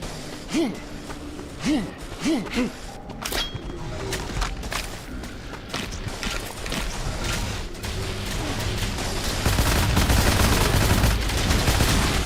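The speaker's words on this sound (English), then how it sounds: "There goes all the ammo for the crystallizer." Rapid weapon fire from the crystallizer in the dark fantasy shooter Wrath: Aeon of Ruin, a dense, continuous burst of shots that grows louder and busier over a dozen seconds, following a few isolated blasts at the start.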